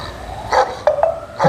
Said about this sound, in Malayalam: സമരത്തിന് മുൻപായി നായ്ക്കളുടെ കുരശബ്ദം സ്പീക്കറിലൂടെ അവതരിപ്പിച്ചത്